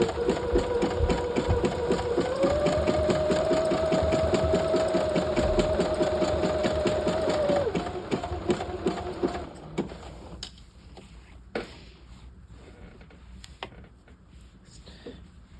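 A sewing machine runs steadily for about eight seconds, stitching a double welt pocket on a half-scale jacket with a lengthened stitch, then stops, leaving only quiet handling noises.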